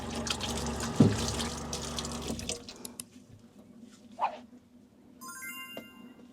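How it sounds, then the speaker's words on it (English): Hot water runs from a tap into an RV sink, a steady rushing stream for the first few seconds that cuts off, followed by faint clinks and a brief electronic beep. "I'm gonna go ahead and leave the hot water on"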